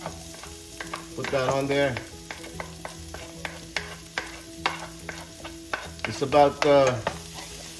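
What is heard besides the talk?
sautéing garlic with pork in a pan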